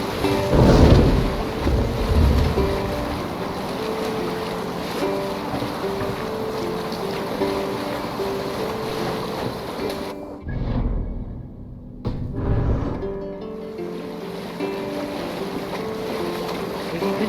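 A Viking longship sails the open sea in Assassin's Creed Valhalla, with steady wind and water rushing against the hull, deep rumbling swells and creaking timber, and a brief lull before the surge returns.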